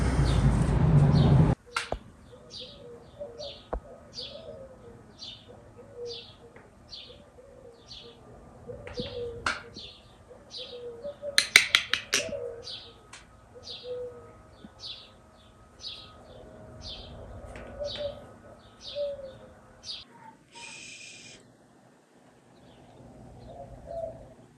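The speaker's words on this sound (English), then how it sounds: "Look at this crazy bird." Bird calling outside a garage during a 1965 Nova build, a repeated series of soft cooing notes with higher chirps, fairly regular and moderately near, over a quiet background with a few clicks and taps.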